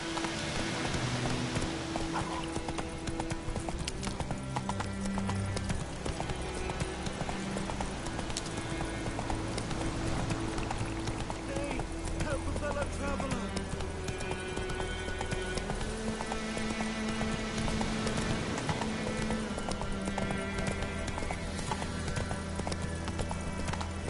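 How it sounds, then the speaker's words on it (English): Hooves of a horse galloping in the video game Elden Ring, a quick, steady clip-clop rhythm running throughout at moderate volume over faint game background sounds. "Run, Roach"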